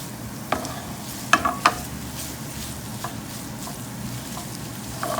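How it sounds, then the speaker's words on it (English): Paneer bhurji is stirred in a pan: a steady low sizzle runs throughout, broken by a few sharp spatula scrapes and taps near the start, with no speech. "I'm just going to stir it,"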